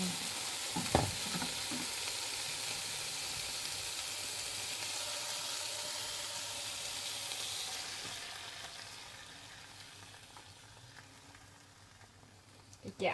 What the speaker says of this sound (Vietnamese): Khi mà các bạn chiên như vậy nè, mùi dầu dừa đó nó thơm ơi là thơm luôn.